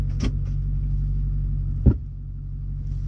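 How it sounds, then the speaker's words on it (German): A Ford F250 Super Duty pickup's engine cranks and catches with a sharp burst, then settles into a deep, steady idle rumble close by, heard from inside the cab. "Ich starte jetzt mal den Ford"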